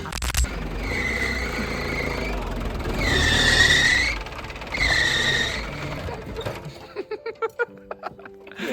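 Car engine held at full throttle with tyres spinning, a sustained loud whining roar that swells twice in high-pitched squealing surges before breaking into short choppy revs at the end; voices can be heard beneath.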